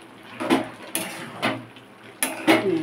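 A spoon scrapes and knocks against a cooking pan while garam masala is stirred into green jackfruit, several distinct clacks and scrapes spaced irregularly, close and fairly quiet.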